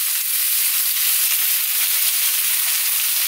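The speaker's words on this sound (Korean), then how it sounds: "이렇게 지금 자글자글 끓으면서 조기에서 물이 나와서 지금 좀 고여있거든요" Yellow croaker fish frying in a pan of oil, with water seeping from the fish and pooling, giving a close, steady, dense sizzle and crackle with no pauses and no talking.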